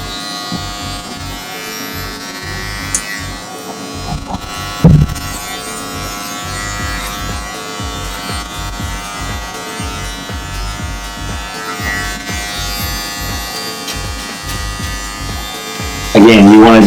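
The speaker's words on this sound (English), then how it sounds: "to take your clippers in different directions throughout the hair, and definitely you want to do this on dry hair" Electric hair clippers buzz continuously while cutting dry hair during a men's haircut at home, a close, steady hum with small changes in tone as the clippers move through the hair.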